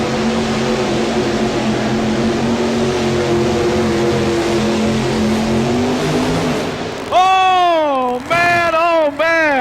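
Mini rod pulling tractor at a 1992 NFMS pull in Louisville, Kentucky, roaring loud and steady through its run for about seven seconds before an announcer's voice takes over.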